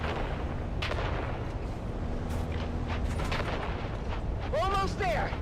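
Grenade explosions in the video game Dune: Awakening, dull booms and bursts over a constant rumbling battlefield bed, with voices shouting underneath.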